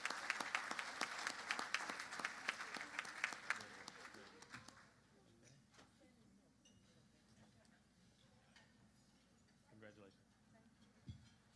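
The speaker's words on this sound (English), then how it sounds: "One more time, a big round of applause as they take their picture." Awards ceremony audience applauding for a small business winner, a loud round of clapping for several seconds that fades out, leaving quiet room tone with a few faint sounds.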